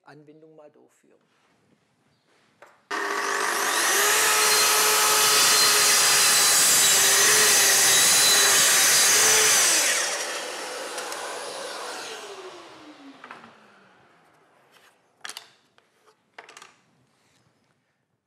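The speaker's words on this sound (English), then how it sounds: "You can see that this saw is very comfortable and easy to use, and I quickly create an even groove." A Festool TS 55 plunge saw cuts a groove in wood, its whine starting abruptly and holding loud and steady for about seven seconds before winding down with a falling pitch, followed by faint clatter.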